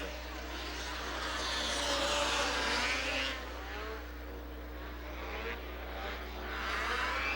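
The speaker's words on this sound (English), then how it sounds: "Green flag and we're racing." Race cars of the Pro Division, engines up to 600cc, roar around Rockford Speedway after the green flag, a steady loud engine drone with swelling passes and faint speech in the background.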